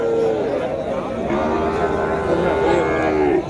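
Cattle at a busy cattle market in Uthangarai, including Jersey cows, low steady mooing and lowing throughout, close and loud over a murmur of crowd noise.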